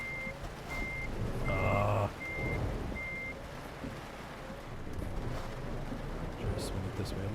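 Reversing beeps from a truck in Euro Truck Simulator 2, a steady train of evenly spaced electronic tones over engine rumble and road noise, with someone briefly speaking.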